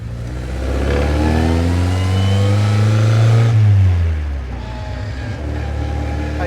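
A 1955 Austin Healey 100S engine, cold and warming up, revs up loudly and close in a rising, sustained roar, then drops back to a rumbling idle.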